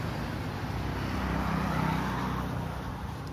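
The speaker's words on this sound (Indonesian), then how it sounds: "Mau lewat lagi kan mobil. Motor." A car and a motorbike pass on a cliffside roadside at Geurutee in Aceh, giving a steady, moderately loud engine and tyre rumble that swells slightly in the middle and then eases off.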